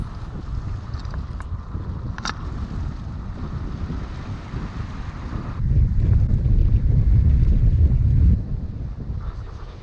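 A sailboat under sail on the English Channel in good conditions, with constant rushing wind buffeting the microphone, a low rumble of water along the hull and a louder gust in the middle.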